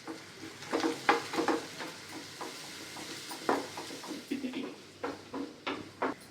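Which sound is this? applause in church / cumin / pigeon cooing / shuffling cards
cumin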